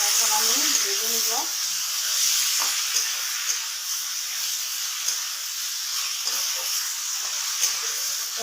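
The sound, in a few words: frying spiced kakrol (spiny gourd) bhaji in a pan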